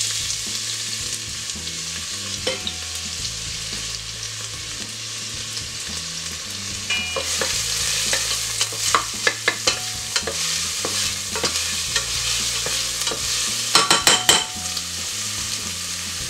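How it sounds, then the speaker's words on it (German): Vegetables sautéing in a hot pot for a Greek trachanas winter soup give a steady, loud sizzle with repeated scraping and stirring strokes and occasional clinks of utensil on metal. "die zwei möchte ich gerne gemeinsam auch da drin kurz anschwitzen"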